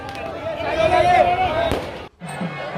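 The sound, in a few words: fireworks at Vrindavan Ranganath temple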